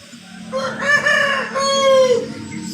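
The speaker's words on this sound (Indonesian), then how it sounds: "2 kali ayam menjawab" A rooster crows from nearby, one long drawn-out cock-a-doodle-doo with a rising, strained middle and a fading tail, against a steady low background hum.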